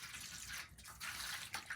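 Ordinary tap water pours into a large metal half sheet cake pan, a steady close splashing and trickling wash with brief pauses and no talk.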